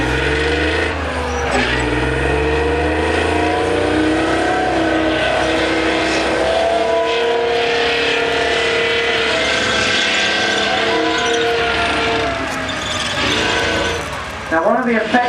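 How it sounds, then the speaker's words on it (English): A Chieftain tank fitted with a replacement engine moves off, its loud, steady rumbling drone and shifting harmonic whine filling the whole stretch, with a brief dip near the end as the power note changes. "Now you hear how noisy this tank is when it moves off."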